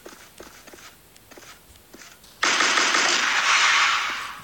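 Automatic gunfire in the CrossFire Legends shooter game: after a couple of seconds of faint footsteps, a loud, sustained rapid-fire burst erupts and carries on to the end.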